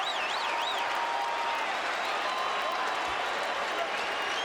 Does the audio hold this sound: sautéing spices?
no